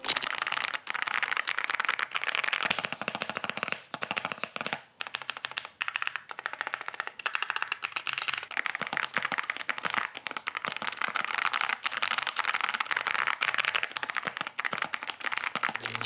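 Continuous clacky typing on a mechanical keyboard, dense rapid keystrokes throughout with no talking.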